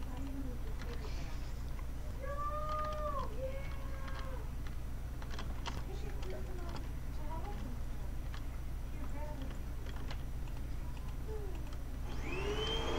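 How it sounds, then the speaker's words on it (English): Steady droning hum of a vacuum cleaner running throughout, with occasional tapping and faint chirpy tones over it. "And that's the vacuum."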